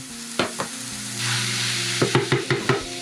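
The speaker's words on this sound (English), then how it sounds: "So amigos, just saute a little bit." Vegan kimchi fried rice sautéing in a pan, a short burst of sizzling with several sharp, rhythmic knocks and scrapes of a spatula stirring the rice.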